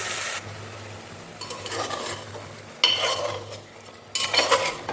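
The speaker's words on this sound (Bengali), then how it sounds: "এখন আগে মাংসটা একটু কষিয়ে নিই" Meat frying with spices for kosha sizzles softly while a spoon scrapes through it in a few distinct bursts of stirring, close and with no talk.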